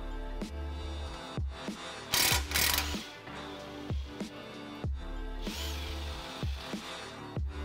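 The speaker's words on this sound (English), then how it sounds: "I'm just gonna use an impact to remove it" Impact wrench breaking loose a suspension bolt during a coilover install on a MK6 VW Golf R, heard as two short, loud rattling bursts over a steady low workshop hum.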